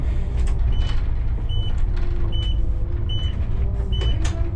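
Interior of an Electron electric city bus on route 24, with a steady low rumble of road and motor noise throughout, a faint high electric whine and a short high tone that repeats every second or so.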